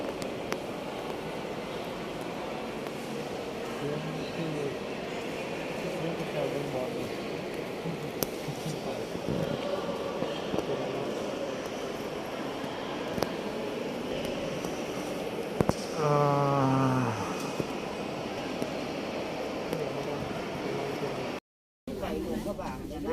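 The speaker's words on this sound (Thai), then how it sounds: "บรรยากาศรถไฟเนาะ" Continuous rumbling hum of a moving Laos–China Railway train from inside a carriage, steady throughout, with faint voices and a brief rising tone partway through.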